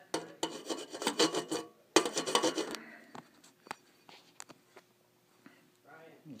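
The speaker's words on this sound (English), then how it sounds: "Just gotta file up, clean up the edges a little bit so the pop rivet sits a little bit better." A file rasps along metal edges to prepare them for a pop rivet during winter upgrades on a Skipper 20 sailboat; two bursts of quick back-and-forth strokes, then quieter scattered scrapes and taps nearby.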